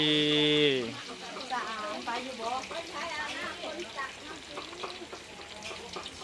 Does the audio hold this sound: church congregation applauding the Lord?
no